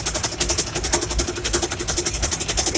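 Bus engine running with its engine covers off, a loud, steady mechanical drone with rapid rhythmic ticking and clatter throughout, close and continuous with no talk.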